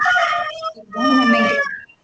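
A rooster crows loudly and close, two long strained calls separated by a short break, heard during an indoor meeting.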